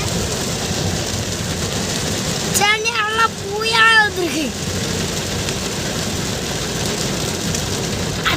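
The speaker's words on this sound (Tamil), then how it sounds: "சூப்பரா மழை பெய்யுது." Heavy rain pours down in Chennai around a Honda Jazz, a steady hiss lasting the whole time while people chat over it and a brief warbling sound rises partway through.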